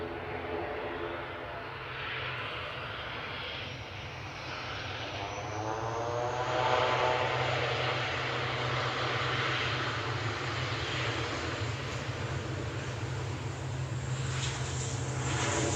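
Aer Lingus Airbus A330 jet departing Manchester Airport for Orlando, its engine roar swelling midway with a sweeping, shifting tone as it passes, then holding loud and steady.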